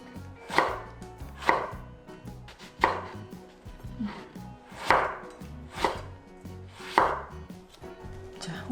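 A knife chops through small eggplants on a cutting board in evenly spaced, crisp thuds, about one per second, close and clear with quiet gaps between strokes.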